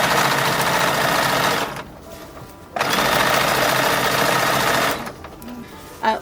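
Sewing machine stitching a curved seam on a silk doll dress, a loud steady whir that pauses briefly, resumes at full speed, then cuts off near the end.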